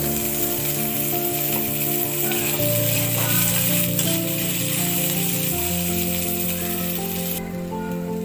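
Mustard seeds and cumin sizzle in about two tablespoons of hot oil for poha, a steady, loud, close frying hiss with no talking.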